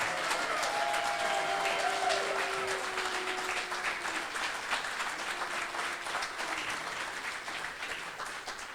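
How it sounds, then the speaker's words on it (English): A crowd at a veterans headstone restoration celebration in Waterbury gives sustained, dense applause, with a couple of whistles early on, and the clapping gradually tapers off toward the end. "Let's give them a round of applause."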